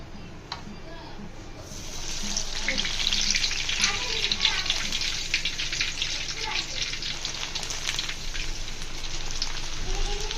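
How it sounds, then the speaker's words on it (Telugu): Garlic fries in hot oil with a dense, steady sizzle like light rain, growing a little fuller after the first couple of seconds and holding at a moderate level, with faint stirring and a brief lull near the start. "ఎల్లిపాయల్ని ఆయిల్లో ఫ్రై చేసుకుంటున్నాను"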